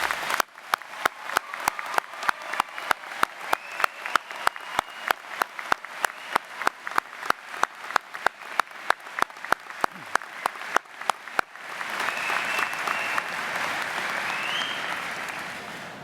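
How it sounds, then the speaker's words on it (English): At a University of Winnipeg convocation ceremony, the audience applauds the graduating class. Crisp, evenly spaced claps ring out in a large hall, then swell into fuller, sustained applause. "Please, everyone, join me in a round of applause for our graduating class."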